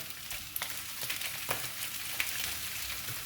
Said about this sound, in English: our sausages have been frying off for about 10 minutes